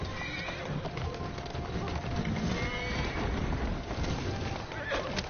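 A horse in the video game Assassin's Creed whinnies over steady hoof clip-clop, close and fairly loud, with a few sharper neighs and snorts, while a voice talks underneath.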